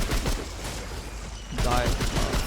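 Rapid automatic weapon fire in a video game firefight, sustained bursts throughout and louder in the second half, with a voice speaking over it.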